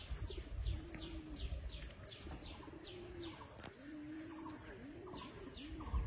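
Pigeons cooing in repeated low rolling calls, with quick chirps from other birds overhead and faint background noise.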